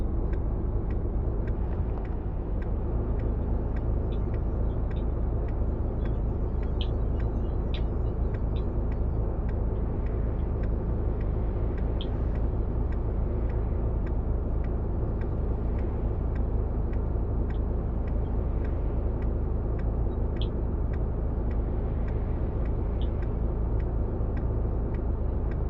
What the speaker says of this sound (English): Definitely on our way now. Truck driving.